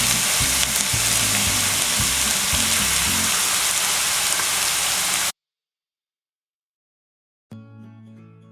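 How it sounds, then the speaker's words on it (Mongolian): Onions frying in a pan on their way to golden, a dense steady sizzle for about five seconds, then silence, then a quieter sizzling return with a low hum underneath. "сонгоноо бол түлхгүйгээр яг гоо нэг шаргал өнгө ортол нь шараад нэг гоёаг нь үнэртдэг шүү дээ"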